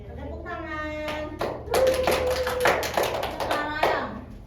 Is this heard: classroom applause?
yes